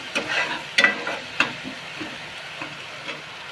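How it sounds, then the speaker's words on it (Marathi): Ground masala paste fries in a pan for a brinjal masala dish, giving a soft, low sizzle with a few sharp spoon-scrape clicks near the start and no voices. "चांगला भाजून घ्यायचा."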